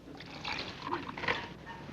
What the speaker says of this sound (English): Then he poured in some water.